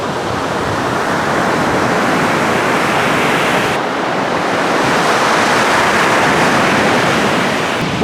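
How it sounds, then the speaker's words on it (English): Ocean surf breaks on a shore at sunrise with waves stirred up by recent winds, a steady loud wash of crashing water filling the scene without pause and with no voices. "The waves are showing the effects of the recent winds."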